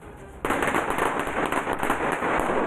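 A dense string of firecrackers bursts loudly in a rapid crackling barrage, set off in a Munger village celebrating a politician's swearing-in as minister.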